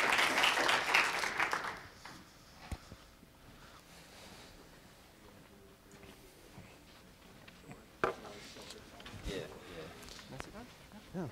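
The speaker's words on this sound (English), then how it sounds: "Can you guys give him a round of applause?" Brief burst of audience applause for David Rusenko, Weebly co-founder and CEO, at an IST Startup Week talk, loud at first then fading within two seconds into quiet room noise and scattered talk.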